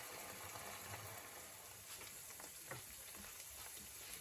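Ground beef frying on very high heat in a pan on a stove, a steady dense sizzle and crackle throughout with occasional stirring scrapes, no talking.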